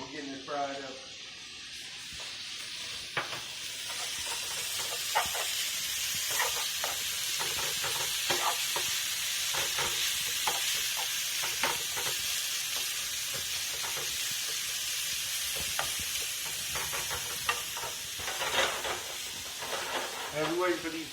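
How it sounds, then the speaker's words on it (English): Bacon sizzles and crackles steadily in a skillet, a continuous bright frying hiss with scattered pops and occasional stirring, at moderate level throughout. "I have my bacon in the skillet, and we're getting it fried up"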